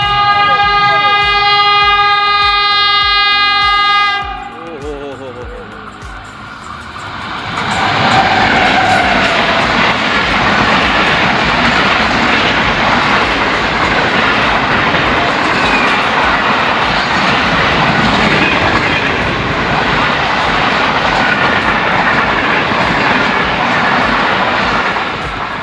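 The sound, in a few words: Khyber Mail train passing through Gilawala railway station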